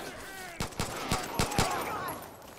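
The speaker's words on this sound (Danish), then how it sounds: "Der bliver stadig skudt godt, ikke?" Gunfire in the video game Far Cry: New Dawn, a quick run of five or six sharp shots spaced irregularly over a couple of seconds against a steady in-game background.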